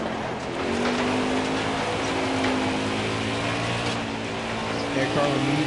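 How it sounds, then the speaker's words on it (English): A race car engine drones steadily and loudly throughout, heard from inside the car during testing laps at Texas Motor Speedway, with a continuous near roar. "I can barely hear you over my car"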